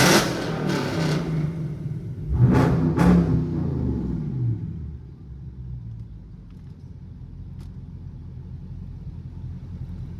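A Dodge Charger Scat Pack rumbles at close range, a deep idling engine with a couple of sharp revs early on before settling into a steady low burble.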